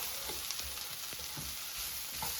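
Seasonings for ground turkey fajitas sizzle in a hot pan, a steady close frying hiss with faint scattered pops and light stirring, no voices.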